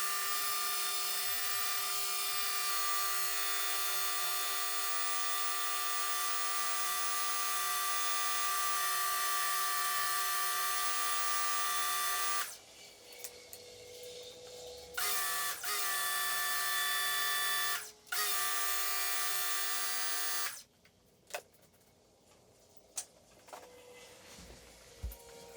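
A Swipe Smith pressure washer runs in a garage, a loud steady high-pitched motor whine that cuts out and restarts several times in the second half, leaving quieter gaps, with no talking.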